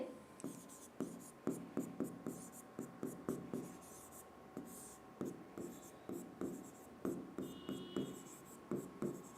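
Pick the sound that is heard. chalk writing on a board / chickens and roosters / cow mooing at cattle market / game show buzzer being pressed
chalk writing on a board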